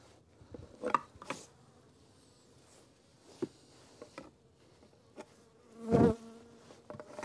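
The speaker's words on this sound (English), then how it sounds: "Unfortunately, I got a few bees here." Scattered bees buzz faintly in a quiet space, with a few sharp knocks and clunks, one louder thud near the end.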